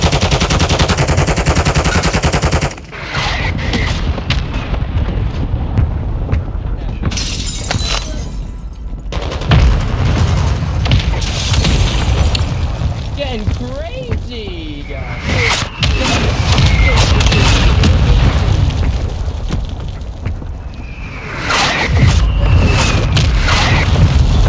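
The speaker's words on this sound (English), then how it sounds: "Our mortar strike is inbound." Mortar strike explosions and gunfire in the video game Warzone 2: loud booms and rapid bursts of shots, dense and continuous with brief lulls, with people talking over the battle.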